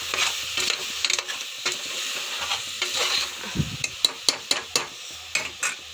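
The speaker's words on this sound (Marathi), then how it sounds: "त्यानंतर घालू टमाटरही छान परतून घेऊ।" Tomatoes, cut into fairly large pieces, sauté in a pan for a rustic village-style veg pulao. A soft steady sizzle runs throughout, and sharp spoon-on-pan scrapes and taps become regular in the second half.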